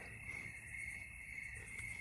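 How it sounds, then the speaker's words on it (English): Crickets chirp in a continuous, steady high trill, faint and alone, with no voices or other sounds. "crickets are a good backup band"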